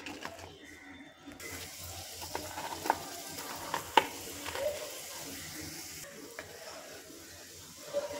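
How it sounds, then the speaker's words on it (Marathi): Salted modak frying in hot oil, a soft steady sizzle with a few sharp clicks and spatters over faint background noise. "तर हे तळून घ्यायचे."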